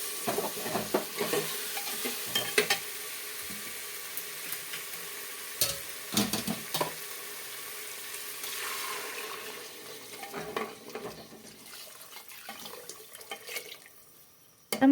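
Satara-style mutton masala being stirred in a pan, close scraping and clattering spoon strokes in bursts over a soft continuous sizzle, with no talking.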